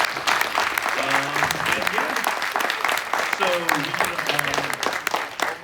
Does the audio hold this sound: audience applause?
yes